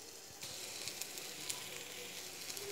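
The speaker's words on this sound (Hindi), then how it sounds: "सेकंड के लिए हम दूसरी साइड से फ्राई करते हैं।" A cheese omelette sizzles and fries steadily in a pan with very little oil, a continuous close crackle with small pops and no talk over it.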